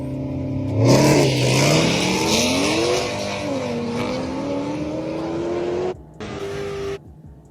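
A Ford Shelby GT500 engine revs hard and climbs through pitch, roaring steadily for several seconds before cutting off abruptly near the end.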